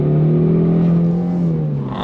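A 2026 Ford Mustang turbo coupe in Adriatic Blue accelerating hard on throttle around a track, with a loud, close engine drone that holds a steady pitch and then eases slightly near the end.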